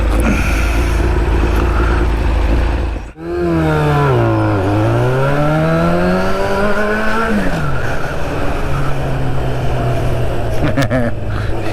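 A car accelerates hard nearby on a road, its loud engine note climbing in pitch through several gear changes over steady wind and road rumble, then settling.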